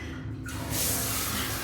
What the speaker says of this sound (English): it actually sprays from the top of the head